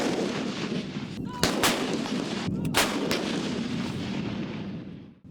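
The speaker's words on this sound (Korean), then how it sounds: "견인포 사격 훈련을 했습니다" Towed artillery guns of an army artillery brigade firing during a training drill: two heavy, booming blasts a little over a second apart, each with a rolling echo over a steady outdoor background.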